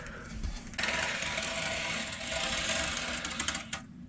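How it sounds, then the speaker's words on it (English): A regular utility knife slices through R3 foam insulation board, a dense, scratchy cutting rasp that holds steady for a few seconds before a few sharp snaps near the end. "We're going to go and cut this piece out of insulation. So this is R3. Use a regular knife."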